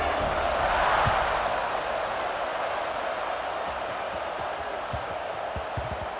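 Stadium crowd in EA Sports College Football 26 before a kickoff, heard as a steady, dense roar that fills the whole stretch at an even, fairly loud level.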